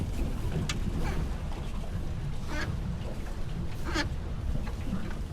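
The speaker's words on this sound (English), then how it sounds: "Is that just the pedals making that sound? It's the rubber on rubber." Pedals of a pedal boat on the water in Japan squeak rubber on rubber, giving several short duck-like squeaks at uneven intervals over a steady, loud rumble of water and wind.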